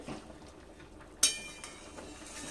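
A metal spoon stirs a pot of dudh shukto with poppy seeds and mustard. It gives one sharp, close clink against the pot and some faint scraping.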